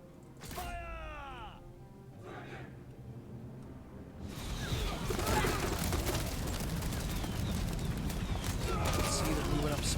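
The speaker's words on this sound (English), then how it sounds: "Archers are pelting them right on the right flank" Massed arrow volley and battle din from a Total War: Three Kingdoms clash, starting with shouts and scattered thuds, then swelling after a few seconds into a dense, continuous roar of impacts, voices and hooves.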